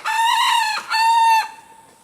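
A jungle fowl rooster crows on a farm in two strong, harmonic calls, the first longer and the second trailing off, loud and close with no other sounds.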